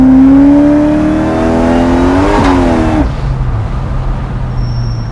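A 700-horsepower Whipple-supercharged Chevy Chevelle restomod accelerates hard up close, its engine note climbing in pitch with supercharger whine, then dropping off sharply into a lower steady rumble.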